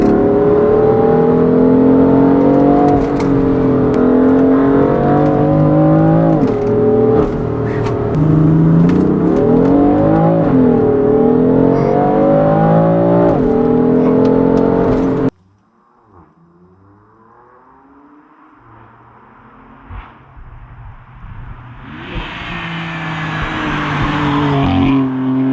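A 2016 BMW M3 with DCT, mid-pipe and tune revs hard at full throttle, loud rising engine harmonics climbing through gears for about fifteen seconds, then cutting off abruptly to a quieter whir that slowly builds again.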